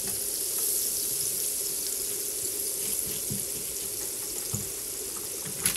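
Butter sizzles steadily in a hot pan while homemade burgers are being made, a constant close frying hiss with a few soft knocks and no talking.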